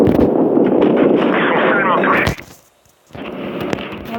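Tank cannon fire in the online game World of Tanks: a dense, loud booming blast that rolls on for about two seconds, cuts to near silence, then returns as rumbling battle noise.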